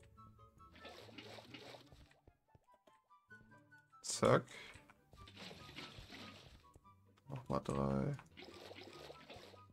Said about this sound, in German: 36 Wasser, die wir jetzt platzieren müssen